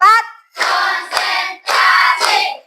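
Hands clapping in a classroom-style call-and-response rhythm, with short bursts of close, loud claps in irregular groups after a brief voice at the start.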